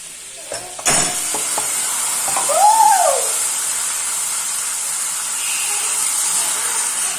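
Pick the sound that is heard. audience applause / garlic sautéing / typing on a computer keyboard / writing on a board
garlic sautéing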